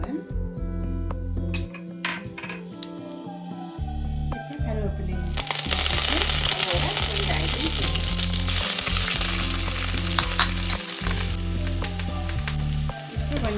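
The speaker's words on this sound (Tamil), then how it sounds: "இப்போ எண்ணெய் சூடாகிட்டு பெருஞ்சீரகத்தை போடுறேன்" Fennel seeds drop into hot oil in a pan for a baby jackfruit dish. A voice talks at first, then a sudden loud, bright sizzle bursts up and keeps crackling steadily while the talking carries on over it.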